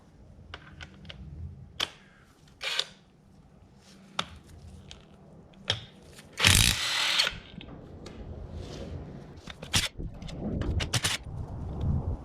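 Power tool removing the bolts of the back cover on a BMW E36 differential: short bursts of a drill or impact tool, with one louder, longer whirring run in the middle, all close up in a workshop and without speech.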